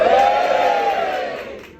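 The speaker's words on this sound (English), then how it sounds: "Give me a cheer if you're from Glasgow." A comedy club audience at The Stand gives a short loud cheer and roar together, fading over about two seconds.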